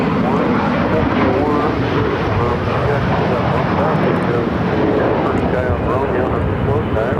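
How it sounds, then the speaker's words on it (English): At Phoenix airport, a Southwest Airlines Boeing 737-700 arriving from San Diego produces a steady, broad, loud engine roar that fills the whole stretch without a break. "Southwest Airlines Flight 3678 coming in from San Diego"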